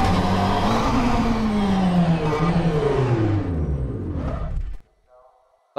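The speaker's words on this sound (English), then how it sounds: "I still think you hear the turbo, don't you?" A McLaren 720S GT3 engine with its turbo roars in rFactor 2 at Sebring, a loud sustained drone that bends down in pitch through a gear sweep, then drops away abruptly to near silence; a voice talks over it.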